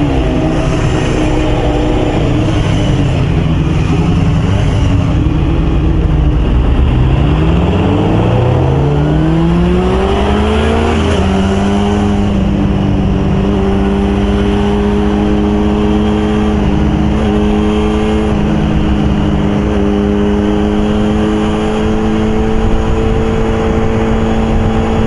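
Japanese-edition Subaru Impreza engine accelerating hard through the gears, rising revs dropping at each shift then climbing again, loud and sustained with road roar throughout.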